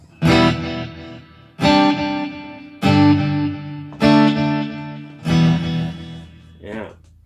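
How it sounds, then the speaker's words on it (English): Five strummed electric guitar chords ring out one after another at even intervals through a Mooer Black Truck and NUX Stageman, each trailing off with echoing delay and a reverb wash. "And then let's try delay and reverb."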